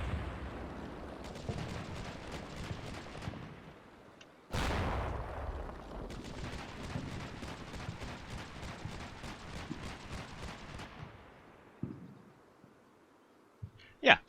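Bradley fighting vehicle gunfire in Combat Mission Shock Force 2 fighting among buildings, with long runs of rapid rhythmic autocannon shots broken by a heavy blast, fading to a few distant pops and a late sharp crack.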